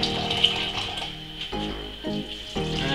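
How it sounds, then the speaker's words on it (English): Hot water poured from a kettle into a jar while brewing a honey braggot, a steady close watery pour with a few short breaks and splashy bursts, no talking. "So in goes my hot water."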